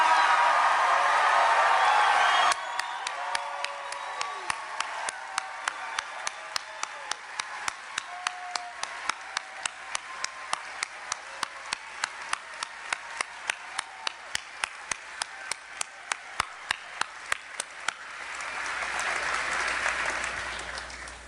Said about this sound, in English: I'd like to ask the Democratic members of the Wyoming State Legislature to stand and get a round of applause from you guys.